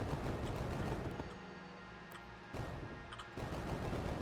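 Rapid bursts of Atomic Fire gunfire in the video game Enter the Gungeon, with dense overlapping shots and explosive blasts that briefly drop off, then resume loudly.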